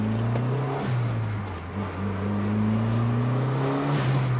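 A 1988 Dodge Shelby Shadow GS accelerating from inside the cabin, its engine drone rising steadily in pitch with a brief gear change, loud and continuous.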